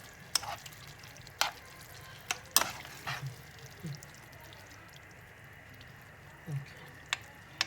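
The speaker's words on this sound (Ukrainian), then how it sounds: "Їх перемішуємо і до цих фасолів ми додамо ще макароні" Green beans and pasta stirred together in a hot pan, with a soft sizzle underneath and scattered clicks and scrapes of the utensil against the pan, some closely spaced and others spread apart.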